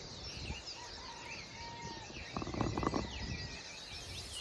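Wild birds gathered near empty backyard feeders, finches, cardinals and doves among them, give soft scattered chirps and a thin whistled note at a moderate distance over quiet outdoor ambience, with a brief burst of rustling noise.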